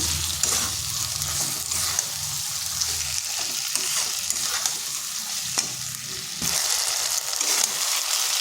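Flat beans and potatoes tossed with chili powder in a hot pan, a continuous loud sizzle with repeated scraping stir strokes throughout.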